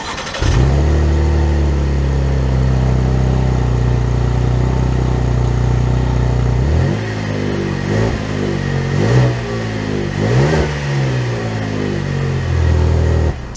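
A 2022 Chevy Traverse engine runs at a loud, steady idle, then revs through several rising and falling surges as the vehicle pulls away to drive, close and clear with no talking.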